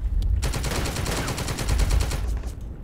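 Rapid gunfire in a military video game, bursts of closely spaced shots rattling continuously for a couple of seconds after a brief pause, loud and close.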